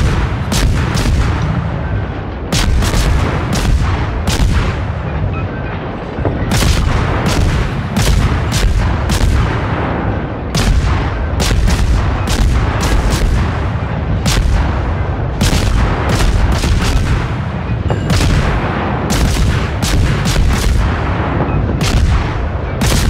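Rapid, loud gunshots and booming cannon-like blasts ring out in steady volleys from a video game battle, repeating sharply across the whole stretch with no talk.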